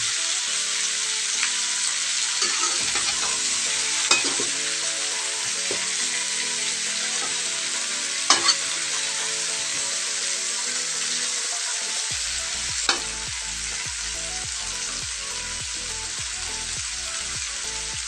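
Chicken pieces sizzle loudly in a hot pan for adobo, a steady crackling fry with occasional scrapes and stirring knocks that turn more rhythmic toward the end.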